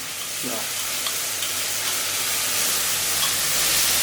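Ground spices hitting hot oil in a wok, giving a steady broadband sizzle that runs the whole time with no talk over it.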